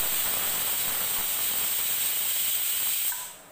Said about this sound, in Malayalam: ഇപ്പോൾ 2 സ്റ്റീം വന്നിട്ടുണ്ട്.